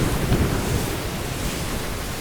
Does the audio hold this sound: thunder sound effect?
yes